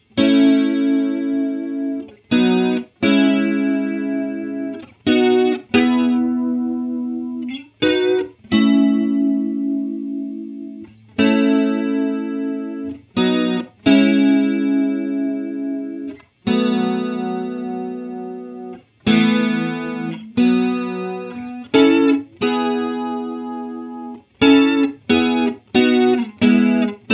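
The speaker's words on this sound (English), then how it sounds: "So there's our chorus." Electric guitar with a shimmering chorus effect, dialed toward a particular song's tone, playing chords and short phrases, loud and close, with brief pauses between strums.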